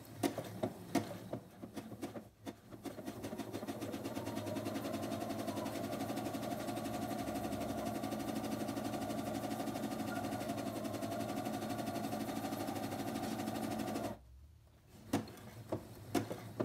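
A sewing machine stitching forward and back to lock the end of an appliqué seam on a T-shirt, a quiet steady rapid whir lasting over ten seconds, framed by a few soft clicks and handling noises before and after.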